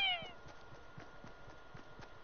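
A cat lets out a single clear meow at the start, then only faint, quiet background sounds follow.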